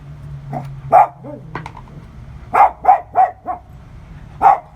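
Dogs bark close and loud in about eight sharp, irregular bursts, several coming in quick succession, with brief quiet gaps between them.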